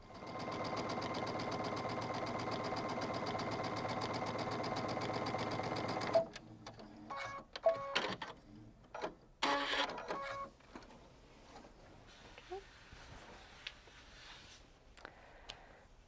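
Sewing machine running a half-inch seam across the bottom of a quilt pocket, a steady close whirring buzz for about six seconds, followed by scattered clicks and handling knocks.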